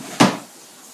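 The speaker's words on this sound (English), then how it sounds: "You can open a drawer and you can put your other trains in there." A drawer on a child's toy train set slides open with a single short, close knock and a brief rattle, followed by quiet, with no talking.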